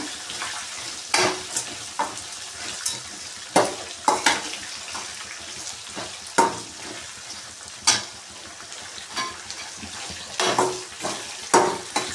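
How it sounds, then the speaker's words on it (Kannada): Onions frying in a pan for onion rice give a steady, close sizzle, broken by repeated sharp spatula scrapes and clacks against the pan. No one speaks. "ಈರುಳ್ಳಿ ಚೆನ್ನಾಗಿ ಫ್ರೈ ಮಾಡ್ಕೋಬೇಕು ಇವಾಗ"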